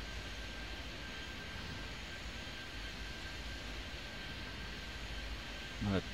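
Continuous airplane engine drone in the Airport Madness 3D airport game, a steady broadband roar with a faint high whine, holding even from start to finish.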